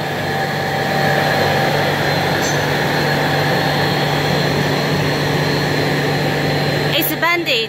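A cooling fan blows air steadily across an EPE foam sheet extruder, producing a loud, constant broadband rush and machine hum, with a brief voice near the end.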